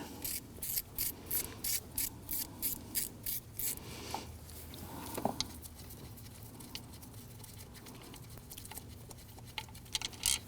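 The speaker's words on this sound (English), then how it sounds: "You can see I'm just using a stubby ratchet here. I'm using a wobbly head socket or extension" A stubby ratchet with a wobbly head socket clicks in quick, even bursts while loosening bolts on the thermostat housing of a 2009-2017 Volvo XC60 3.2L inline-six, then falls into quieter fumbling and tool handling up close.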